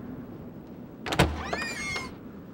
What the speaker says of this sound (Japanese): 僕はすぐに扉を開いた。